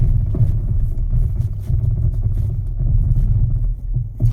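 A car braking from 30 km/h on a snowy winter road on new winter tyres makes a loud, steady low rumble of tyres and engine from inside the cabin, with no distinct skid.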